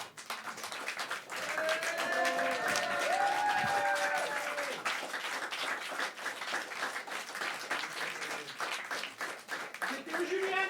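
An audience at a slam poetry tournament round in Antibes claps steadily, a dense, lively burst of applause sustained for about ten seconds, with a few faint voices and whistles mixed in.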